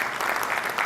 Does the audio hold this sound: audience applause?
yes